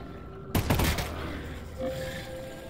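A short burst of gunfire in the VR game Half-Life: Alyx, a few quick heavy shots lasting about half a second, fairly loud and close, followed by quieter background game sound.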